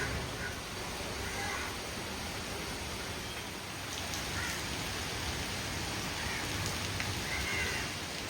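Steady rain pours down in a continuous dense hiss, unbroken and even throughout, with no voices.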